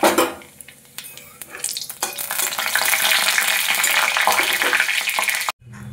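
Five-spice and bay leaf dropped into hot mustard oil in a wok: a sudden burst of sizzling that settles into a steady loud hiss, with a few utensil clinks, close and without talk.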